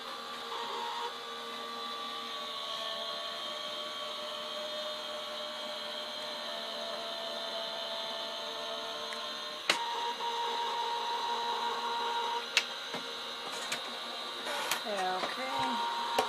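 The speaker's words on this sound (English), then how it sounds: "I'm going to use my die cutting machine. I use the Gemini." A Gemini die cutting machine runs plates and cardstock through with a steady, close motor whir that holds for a long stretch, broken near the end by a few sharp clicks and knocks.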